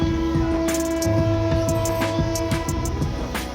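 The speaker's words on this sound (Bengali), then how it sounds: "804 ডাউন বাংলাবান্ধা এক্সপ্রেস এই মুহূর্তে রানীনগর রেল স্টেশন 1 নম্বর লাইন দিয়ে প্রবেশ করছে" The 804 Down Banglabandha Express, a Rajshahi-bound intercity train, rolls into small Raninagar railway station on line 1, its horn sounding with steady tonal hums, a rumbling low drone and repeated clattering wheel knocks close by.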